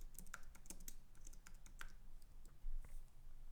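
Brisk keystrokes on a computer keyboard, a string of light clicks in an irregular rhythm, close and fairly quiet with no voices.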